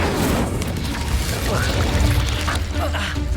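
Incendio fire spell cast during combat in the Hogwarts Legacy video game, a rushing, fiery whoosh over a low rumbling boom that lasts several seconds, with voices over the blast.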